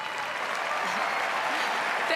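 A crowd at Roland-Garros claps and cheers steadily for a tennis player, a dense, even wash of applause, with a voice faintly heard beneath it.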